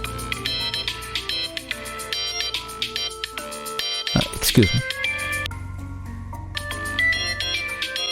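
A melodic phone ringtone plays repeatedly in a bright, looping tune, with a person briefly speaking over it midway.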